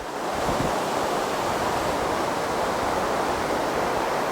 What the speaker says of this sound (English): I'm gonna get a little bit closer to the white water on this one.